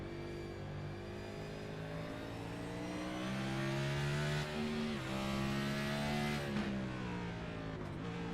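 A NASCAR stock car engine roars in the iRacing game from an in-car view, a continuous loud drone rising and falling in pitch through gear changes and corners, with no voices over it.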